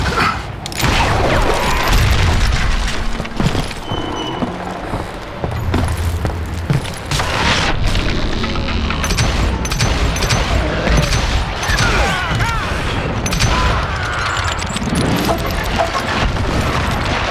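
Loud, booming blasts and clattering action from a dynamite explosion in Call of Juarez: Gunslinger, a dense wall of noise filling the whole stretch with scattered impacts and rumbling debris.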